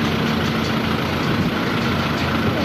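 Traffic backed up on a bridge over the Indus River at Dera Ismail Khan, on the Punjab–KPK border: a steady, loud rumble of idling heavy engines from trucks and buses, unbroken and without voices.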